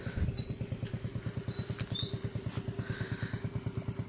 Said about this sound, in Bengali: মানে ইঞ্জিন চালিত নৌকা।